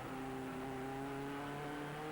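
A 4.5-litre TVR Tuscan race car under power in a 1999 Tuscan Challenge race, a steady high engine whine with climbing tonal revs, heard from a distance and fairly faint.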